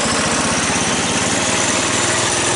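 A Bolens Husky 1050 garden tractor engine runs loud and close with the throttle partly open, a steady throbbing drone held throughout with no pauses.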